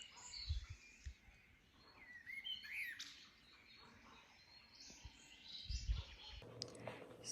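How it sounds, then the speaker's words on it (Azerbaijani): Birds call and chirp at dawn, scattered tweets and short squawks rising and falling at a moderate distance, over quiet outdoor ambience with a few low thumps. "artıq səhər açılır və quşların çox gözəl səsi gəlir"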